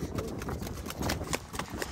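Horses on a cavalcade ride, a mare among them, clip-clop along in a steady rhythm of close hoofbeats, with a voice heard faintly in the background.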